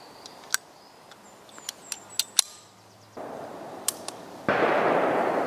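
Bond Arms Rowdy derringer fired with Winchester 115 grain 9mm ammunition, a few sharp, distant-sounding cracks scattered over steady outdoor background noise, with no talk.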